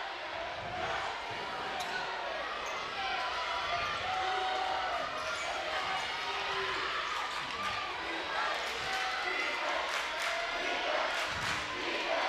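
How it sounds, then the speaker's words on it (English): At a state TAPS championship basketball game, the Lutheran South crowd roars and chants steadily in a packed gym, a dense, continuous wall of noise under a commentator's voice. "Lutheran South crowd very loud"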